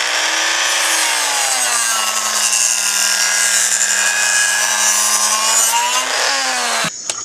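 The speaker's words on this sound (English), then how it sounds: "I'm going to trim this part off" Part of a knife sheath is trimmed off with a power tool, a loud steady high-pitched whine held for several seconds before cutting off abruptly at the end.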